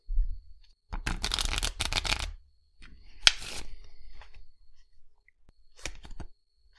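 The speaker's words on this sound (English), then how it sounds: "We're going to go ahead and flip a card." A playing card being flipped and handled at a tabletop during a solo 007 role-playing game, with several short papery bursts of card shuffling and snapping, close and clear, and no voices.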